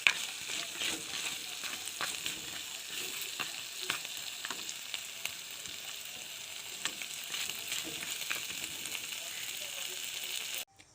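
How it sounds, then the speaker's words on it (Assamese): Fish head and fermented bamboo shoot fry in hot oil with a steady, fine crackling sizzle and occasional stirring clicks, fairly close and continuous until a thump at the end. "দেখিছেনে মোৰ মাছৰ মূৰ আৰু খৰিচা টেঙা ভাজিকণ ৰেডি হৈ গৈছে।"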